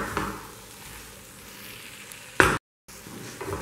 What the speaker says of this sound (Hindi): अब हम इसमें ये नींबू का रस डाल देते हैं और इसको भी अच्छे से मिक्स कर देते हैं और इसको हम 1 मिनट के लिए और पका लेंगे